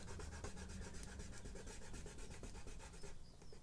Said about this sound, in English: Now we're going to rub out